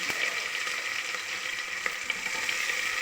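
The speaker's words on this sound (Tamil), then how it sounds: "தாளிக்கும் போது வெங்காயம் கருவேப்பிலை போட்டால் ஒரு வாசம் வரும்" Onion and curry leaves frying in hot oil for a tempering, a continuous crackling sizzle with occasional stirring clinks, close and moderately loud.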